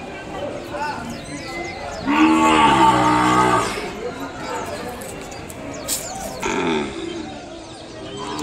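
At an outdoor cattle market in Kodada, Telangana, a calf gives a loud, drawn-out moo, then a second shorter one, over steady crowd chatter and nearby talking.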